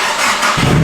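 A budget turbocharged van engine fires up on a dyno, a loud continuous roar that deepens into a heavy low rumble as it catches and settles, with no talk over it.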